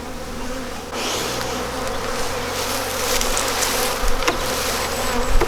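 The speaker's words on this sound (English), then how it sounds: "Lovely quiet bees, these buckfasts." Buckfast honey bees buzz steadily during a transfer from a nucleus box into a full-size hive, a dense close swarm hum that grows slightly busier toward the end, with no talking.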